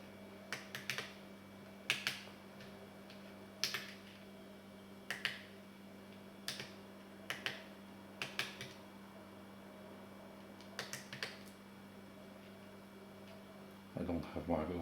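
Sparse, irregular key clicks tapped one at a time on the small keyboard of a homemade T-COMPUTER, close by, with pauses between strokes and a steady low hum underneath.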